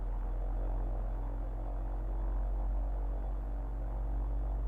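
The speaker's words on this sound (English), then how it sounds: "I wish the buzzing sound wasn't going on with the AI plane that's randomly there." A steady low buzz from an AI-controlled plane in a flight simulator with a FlightFactor Airbus A320, holding as a constant hum with no talk.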